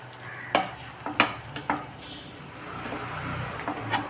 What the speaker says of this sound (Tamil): அடுப்பு ரொம்ப சிம்மில் வச்சுக்கிறணும் இது நல்லா கொதிக்கட்டும்